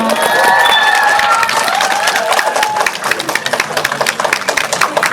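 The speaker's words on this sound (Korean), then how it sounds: "큰 박수 부탁드립니다" An audience applauds as actors and the director take their seats at a special film screening event in Korea. Loud, continuous clapping mixed with some cheering is topped by a few whoops, then thins into scattered claps toward the end.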